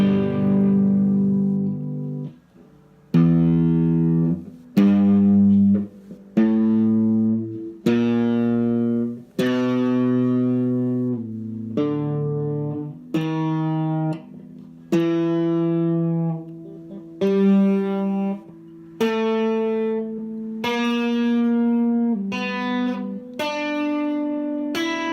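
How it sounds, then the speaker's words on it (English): An electric guitar with its volume turned up pushes the amp into a gritty, harmonically rich distortion. Loud picked notes and chords ring out one after another over about 25 seconds, each with a sharp attack and a sustained buzzy tail. "the louder your guitar's volume and the harder you hit the strings, you can actually push the amp into distortion"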